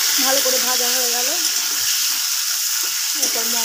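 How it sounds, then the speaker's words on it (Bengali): Potato pieces for a fish curry fry in a little oil with a loud, steady hiss and crackle. A voice talks over the sizzle at the start and again near the end. "এরপর আলুটাকে, মাছের ঝালের আলুটাকে ভেজে নেব"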